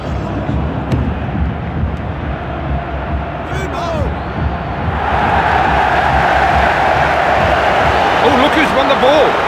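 A huge stadium crowd in Gelsenkirchen during a football match, a broad steady roar that swells louder midway, with a commentator talking over it.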